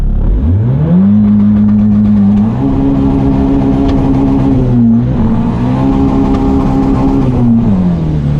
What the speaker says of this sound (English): Just wide open throttle.